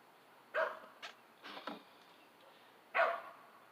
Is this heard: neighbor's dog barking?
yes